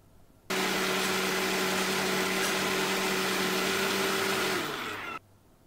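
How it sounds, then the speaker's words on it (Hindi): A blender motor whirs steadily at high speed for several seconds, blending onion, garlic and ginger with half a cup of water, loud and close, then spins down and cuts off. "ब्लेंडर में हमने प्याज लहसुन और अदरक को डाल के आधा कप पानी डालकर ब्लेंड कर लेना है"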